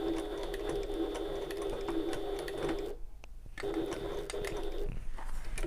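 A sewing machine top-stitches along a bag seam through several layers of fabric, a close steady hum interrupted by one brief pause and a second short stop near the end, with no talk.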